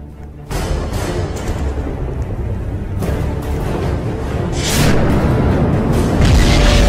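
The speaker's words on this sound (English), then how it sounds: "the volcano is gonna explode" A volcano erupts in the video game Jailbreak, a deep rumbling boom that swells and holds loud and continuous, building in intensity toward the end.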